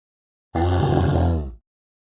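A single deep, rumbling grunt-like animal call lasts about a second, loud and close, with a rough, throaty texture and nothing else around it.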